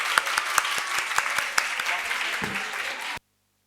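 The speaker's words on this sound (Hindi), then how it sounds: "एक बार ज़ोरदार तालियां इनके लिए" Audience applause for the chief guest, an education secretary, at the Pakistan Learning Festival in Lahore: dense, lively clapping with sharp individual claps standing out, continuing for about three seconds before stopping abruptly.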